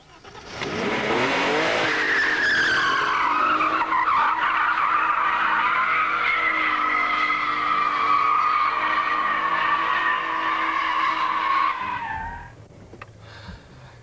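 Vauxhall Omega tyres skidding and squealing in one long, loud continuous slide with a wavering pitch, fading out near the end as the car tests its traction control.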